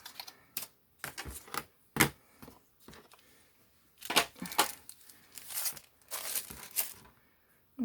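Scissors snipping through a paper cover for a Halloween and fall craft project, a series of close, sharp, separate cuts with quiet gaps between them and no talking.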